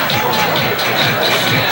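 A large college football crowd at a Rowan University versus TCNJ game in 2007 fills the air with a loud, continuous hubbub of murmuring and shuffling, heard as a dense wash of many distant voices.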